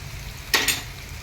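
Brief sizzling burst as tempering spices drop into hot oil for buttermilk rasam, a sudden bright hiss with a second flare just after, close and moderately loud, no talking.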